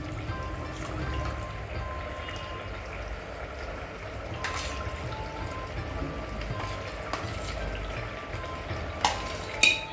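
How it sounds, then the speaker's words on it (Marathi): A roasted onion-coconut paste fries gently in a pot for mutton dum biryani, making a low, bubbling sizzle with scattered spatula clicks and a couple of louder knocks near the end. "आपण टाकतोय आता कांदा खोबऱ्याचं पेस्ट."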